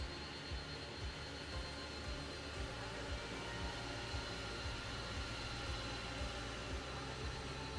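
Boeing 757 jet engines taxiing in a flight simulator game, a steady, continuous turbine drone with a faint rhythmic thumping underneath, fairly quiet and unbroken throughout, with no voices.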